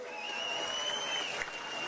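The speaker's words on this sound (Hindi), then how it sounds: "अपनी नूह वास्ते, अपनी बेटियां वास्ते, बेटी वास्ते एक बारी होर तालियां मारो जी" A rally crowd in Pathankot, Punjab applauds for a daughter-in-law in a steady two-second wash of clapping, with a thin tonal ring from the sound system running above it.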